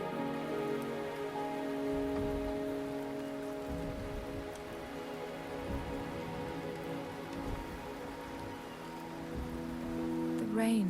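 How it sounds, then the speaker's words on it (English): Steady rain falls in the video game Wuthering Waves, a continuous soft hiss beneath a sustained musical drone, with no other clear sounds. "The rain is subsiding, and the sky will soon clear."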